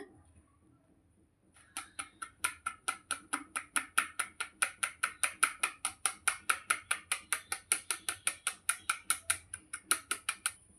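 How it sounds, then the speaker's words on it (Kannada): Maida flour is sifted through a sieve for a homemade cake batter, heard as a close, quick and even run of light tapping knocks that starts after a short pause and continues steadily with no talking. "ಮೈದಾ ಹಿಟ್ಟು ಹಾಕುವಾಗ ಜರಡಿ ಹಿಟ್ಕೊಂಡೇ ಹಾಕಬೇಕು"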